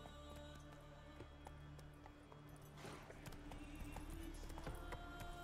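Roach, a horse in The Witcher 3, galloping with a steady rhythmic clip-clop of hooves, faint and low under game ambience and music.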